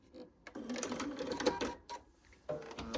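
A sewing machine stitches fabric in short runs, a quiet rapid mechanical chatter lasting about a second and a half, pausing, then starting again briefly, heard close and alone.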